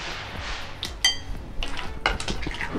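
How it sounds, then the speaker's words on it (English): Cooked clams in coconut sauce are spooned into a bowl in a kitchen, with metal utensils clinking against dishes and pans over a steady background hiss, two sharper chinks standing out. "Now the clams are ready, so I'm going to remove it, serve it in a bowl"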